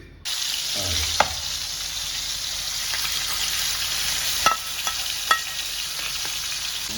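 Fish frying in a pan in a home kitchen in Goa, a steady close sizzle running throughout with a few sharp clinks and scrapes of a utensil.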